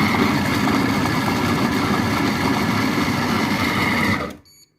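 A Compact Cook Pro M6 food processor runs steadily at speed 4 mixing a potato velouté, a loud continuous motor whir that cuts off sharply near the end.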